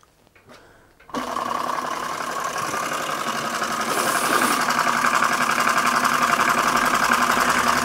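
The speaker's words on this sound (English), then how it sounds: "My little Bing hot air engine. Running superbly." A small Bing hot air engine starts up after a moment of quiet and runs on as a loud, rapid mechanical chatter and whirr, steady and close, growing slightly busier toward the end.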